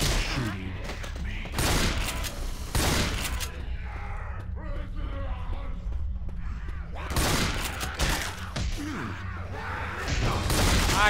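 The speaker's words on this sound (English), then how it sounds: "Stop shooting me." Bursts of gunfire in Left 4 Dead 2, with clustered rapid shots in separate volleys and quieter game noise in between, while players talk over the action.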